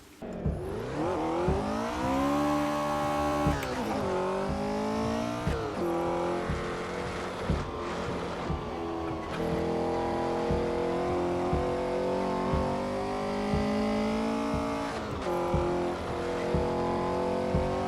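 A Porsche 910 race car from 1966 laps the Spa circuit in a racing video game, its loud engine revving up and dropping through repeated gear shifts, with rising and falling pitch sweeps and faint tire squeal, with no talking.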